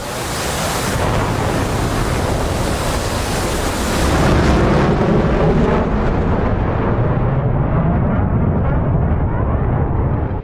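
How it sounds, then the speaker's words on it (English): A missile fired from a fighter jet during an F-15 Eagle versus F-14 Tomcat dogfight in DCS World, a loud, sustained rushing roar that thins and dulls toward the end. "that's a missile out"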